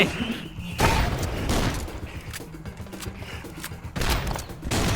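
Heavy booming blasts burst out several times over a low rumble, with loud crackling bursts in between, explosions and gunfire in the game Swamp Attack.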